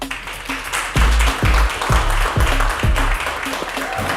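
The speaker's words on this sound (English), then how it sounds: "So please give a round of applause to Carlos Martin." Audience applause at a book release event, loud and close at first, then fading as scattered claps thin out beneath a voice in the room.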